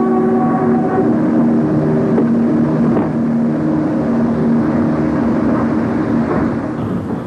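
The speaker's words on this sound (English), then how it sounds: "The train is hauled by 2 EM1s and banked by 2 more." A train hauled by two EM1 electric locomotives and banked by two more climbs the Worsborough Incline under 1500-volt overhead catenary, a continuous loud mechanical drone with steady humming tones and no speech.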